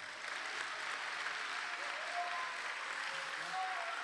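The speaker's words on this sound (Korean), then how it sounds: "박수 한번 주시죠." A church youth talk-concert audience applauds steadily, a dense wash of clapping that fills the room and holds at an even level throughout, with a few faint voices mixed in.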